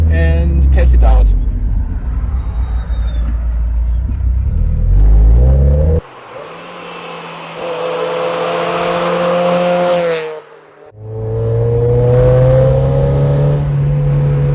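A Mazda Miata MX-5 is driven along a curvy road, its engine rumbling and revving through rising gears, the tone dropping between shifts and climbing again, loud and close throughout.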